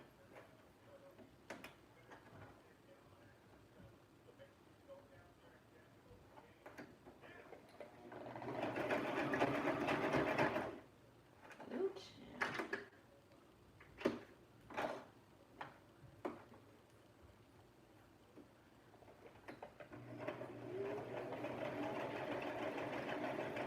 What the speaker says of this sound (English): But I actually just sewed on my last track.